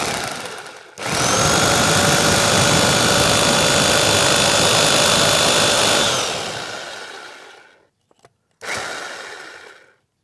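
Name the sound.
large electric drill drilling holes in a wall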